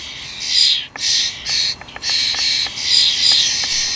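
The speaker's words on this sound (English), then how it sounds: "And this is the sound of an angry starling." An angry common starling, a nesting female disturbed at close range, gives harsh, raspy scolding calls in repeated bursts, loud and near with brief gaps between them, and no talking.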